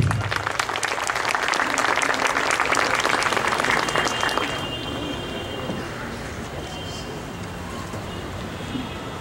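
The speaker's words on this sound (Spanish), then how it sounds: "Recibamos después con calurosos aplausos" Warm applause from the audience at a civil law lecture welcomes the speaker, a dense steady clapping that fades into a quieter room after about four seconds.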